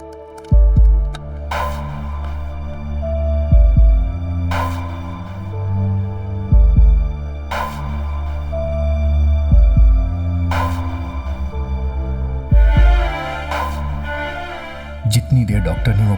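Deep, heavy heartbeat thumps pulse at a slow, steady rhythm, loud and close, over a low humming drone, with a rapid flutter of beats near the end.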